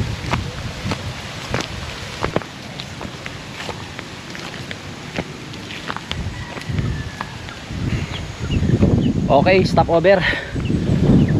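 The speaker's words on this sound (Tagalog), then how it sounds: "Lakas ng hangin." Strong wind gusting across the microphone outdoors on the way to a market, a steady rushing roar with rustling, loudest near the end, while people talk over it.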